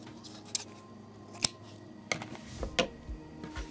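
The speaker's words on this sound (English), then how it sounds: "now what we're going to do is we're going to cut off our yarn" Scissors snipping through yarn during a crochet granny-square project, a few sharp close snips and clicks spread across a quiet room with no talking.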